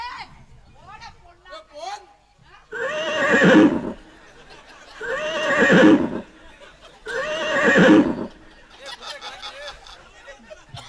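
A horse whinnies three times in a row, each call loud and drawn out, with voices chattering before and after.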